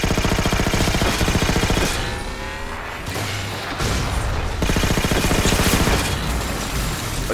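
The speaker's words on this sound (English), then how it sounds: "Oh, he's shooting at me." Rapid automatic gunfire from a Halo 4 co-op battle rattles loudly and continuously. Brief lulls and booming hits break it up before the dense shooting resumes.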